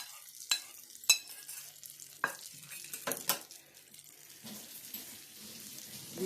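Bursts of sizzling and spattering as a hot tempering is tipped into chana dal chutney, with clinks and stirring sounds between, close by and moderately loud.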